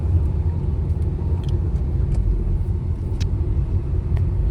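A Tata Altroz driving along in fourth gear, its cabin filled with a steady low road and engine rumble that holds even and continuous, with faint clicks and ticks over the top.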